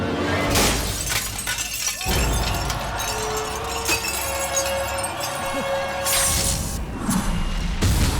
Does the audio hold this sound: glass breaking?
yes